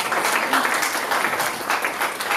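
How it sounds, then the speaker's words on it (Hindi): Loud, dense applause from the audience at a book launch event in Delhi, continuous throughout with no speech over it. "हमारे बीच जोरदार तालियों के साथ"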